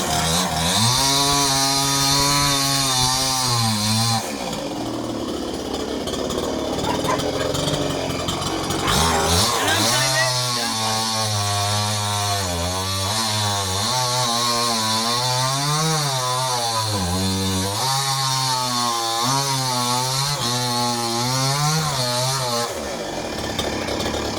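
A chainsaw cuts wood, its loud engine rising and falling in pitch as it bites and eases off, with a lower steady stretch before it revs hard again.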